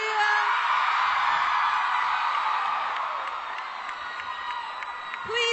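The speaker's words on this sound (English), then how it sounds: "Please keep your applause going" A large audience at a Comic-Con panel for Once Upon a Time cheers, whoops and applauds in a dense, sustained roar that eases slightly toward the end before swelling again.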